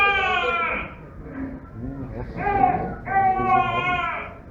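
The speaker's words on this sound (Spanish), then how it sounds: "El llanto es un llanto ronco, disfónico" Hoarse, dysphonic crying of a 27-day-old infant with congenital hypothyroidism and prolonged jaundice, heard as several strained wailing bursts with short breaks between them, fairly close and loud.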